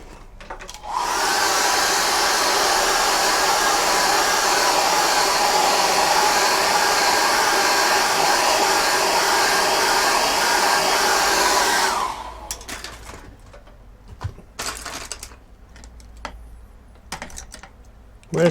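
A hair dryer blows on wet acrylic paint for about eleven seconds, loud and steady, then cuts off, leaving faint clicks and handling noises.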